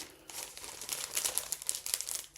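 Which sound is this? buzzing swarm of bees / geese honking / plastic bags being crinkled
plastic bags being crinkled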